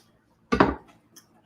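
A single knife stroke through broccoli rabe on a cutting board, one sharp thudding chop with a short rustle, then a faint tap, close and alone.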